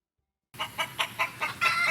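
Farm chickens clucking after a moment of silence, a rhythmic series of sharp, fairly close clucks repeating about every quarter second and building to a denser burst at the end, with no voices.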